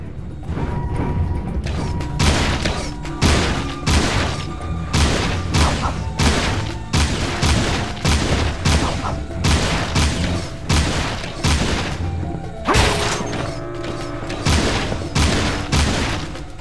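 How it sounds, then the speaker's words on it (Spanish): Rapid blaster gunfire from Jak & Daxter: The Lost Frontier, a PSP game, rattling in dense repeated bursts with booming impacts across the whole stretch, loud and close, with no talk over it. "Ahora intente disparar el arma."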